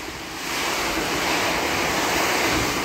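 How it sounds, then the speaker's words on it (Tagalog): Strong typhoon wind (Typhoon Odette, Saint Bernard, Southern Leyte) roars steadily, a dense broadband rush that builds in the first half second and then holds loud and unbroken, heard from an attic. "lakas talaga ng hangin guys"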